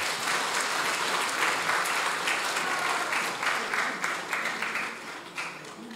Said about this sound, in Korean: 나오실 때 다 같이 우리 박수로 한번 환영해 주시기 바랍니다